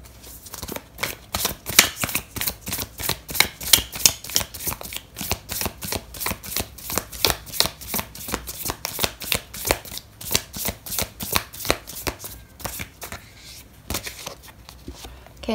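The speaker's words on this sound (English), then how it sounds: "I am going to pull out an oracle card for you" Oracle cards are shuffled for a tarot reading, a long run of quick, crisp riffling snaps in a steady rhythm, close and clear with no talking.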